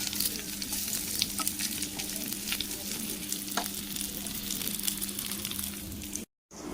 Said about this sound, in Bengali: এখানে চলছে আলু ভাজা।